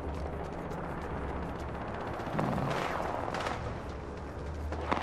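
Gunfire in the battle royale game Apex Legends, a few sharp shots with bursts of rattling fire over a steady low game rumble, moderately distant and fairly quiet, with no talking.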